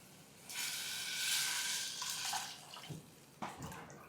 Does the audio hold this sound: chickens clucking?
no